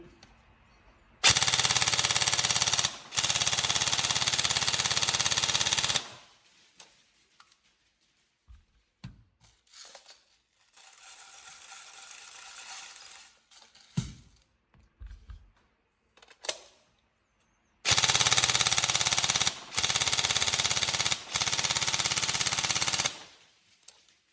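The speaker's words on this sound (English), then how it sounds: "Get some full auto testing in." Upgraded Tokyo Marui 416 Delta NGRS airsoft rifle firing loud, close full-auto bursts, three rapid strings at the start and three more near the end, with quiet handling clicks between.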